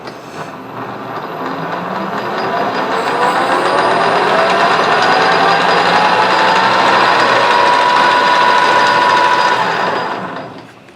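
A metal lathe chamfers the edges of a ball turner part from a Hemingway kit spherical turner, a steady loud whirring cut that swells gradually and holds, with a faint rising whine, then fades out at the end.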